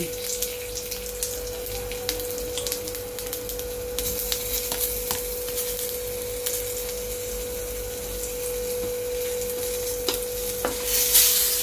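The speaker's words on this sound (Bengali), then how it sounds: "সম্বরের মশলাটা ভাজা হয়ে গিয়েছে" Dry red chillies, bay leaf, asafoetida and sambar spices fry in oil for a vegetarian papaya ghonto, a soft steady sizzle close by with occasional stirring clicks and a faint continuous hum.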